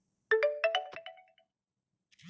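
Mobile phone message alert as an OTP arrives: a short bright chime of several quick ascending tones, close and alone, then quiet.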